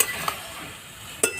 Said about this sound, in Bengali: এবার ভেজে রাখা চিংড়ি মাছটা দিয়ে দেবো, ভালো করে নেড়ে দেবো।